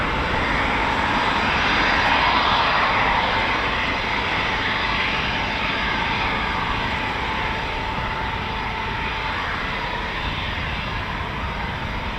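A Eurofighter Typhoon FGR4 taxis at RAF Coningsby, giving off a loud, steady jet roar with a high whine that holds throughout without pause.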